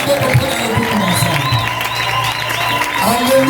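A congregation at a church prayer service applauds and cheers energetically, dense clapping mixed with voices and a sustained musical tone beneath.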